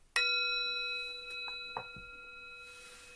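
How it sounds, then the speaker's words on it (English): A meditation bell struck once, a clear ringing tone with a long, slowly fading sustain, near and alone, with a couple of faint soft knocks during the decay. "I'm going to ring the bell"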